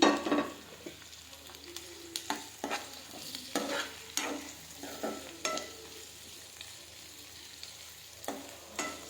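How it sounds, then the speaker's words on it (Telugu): Chicken gizzards frying with onions and dried red chillies in hot oil, giving a soft, steady sizzle broken by repeated scraping strokes of a spoon stirring the pan, fairly quiet and close, with no talking. "ఇప్పుడు ఈ కందకాయనంతా దీంట్లో ఆనియన్స్లో వేసి ఫ్రై చేద్దాం"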